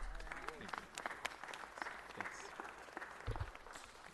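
Applause in a city council meeting chamber, scattered claps from a modest crowd heard fairly quietly, with voices and shuffling mixed in throughout.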